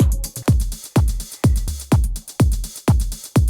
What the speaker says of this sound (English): Then let's see what happens if I'm playing rest of my Octatrack drums